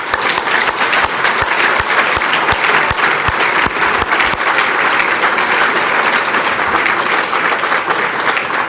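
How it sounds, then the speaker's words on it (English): Sustained, loud applause from a large audience at an RVCC graduation ceremony, many hands clapping in a dense, even roar with some sharper individual claps standing out near the start. "please, a round of applause for you"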